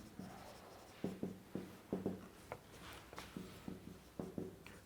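Chalk or marker tapping and scratching on a lecture-hall board, in short irregular bursts of strokes and taps, close and fairly quiet, with no talking.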